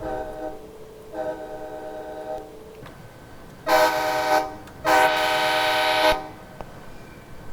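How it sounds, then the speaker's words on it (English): An F40PHL-2 diesel locomotive horn in a Miami commuter rail train simulation sounds two loud chord blasts, the second held longer, after earlier fainter tones and a ringing bell-like pattern. "Get the horn."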